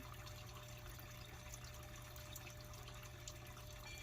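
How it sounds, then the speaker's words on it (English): An indoor fountain trickles in a steady, soft, continuous wash, with a low constant hum beneath it and no voices. "So you should be able to hear this water here, the fountains"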